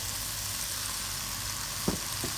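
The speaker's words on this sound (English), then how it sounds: "and we stir fry it up" Vegetables and pork with kimchi stir frying in a pan, a steady soft sizzle throughout with a couple of brief clanks of the utensil near the end.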